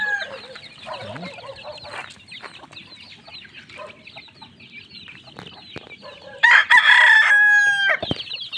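Chicks in a coop peck at feed spread in their trough, cheeping and clucking steadily as a flock, with a louder, denser burst of calls near the end.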